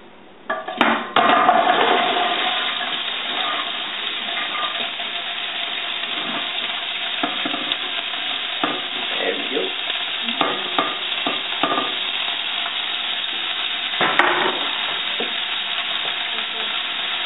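Celery, carrots, mushrooms and yellow onion sizzle and fry in oil in a stew pot, with steady loud frying noise throughout and repeated scraping clatters of stirring, a sharp knock near the start.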